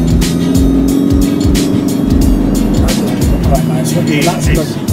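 A 2.3 turbo Saab 9-5 Aero estate accelerating uphill, its engine a steady, loud droning hum with road and wind noise inside the cabin, while people talk over it.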